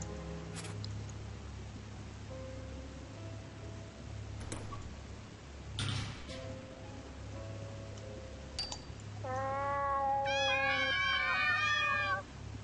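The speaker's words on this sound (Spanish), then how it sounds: "Lo del río de los gatos da mucho repelús." Cats meowing by the river of cats in the video game Ib, a few sharp ticking clicks over a low droning hum, then a run of layered, wavering meows that swell loudly near the end.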